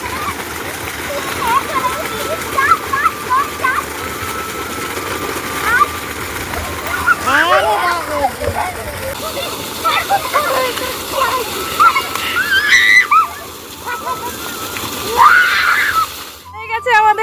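Water splashing continuously while people bathe outdoors, steady sloshing and splatter throughout, with excited voices and shrieks mixed over it.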